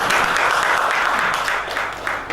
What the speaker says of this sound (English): I just heard somebody clap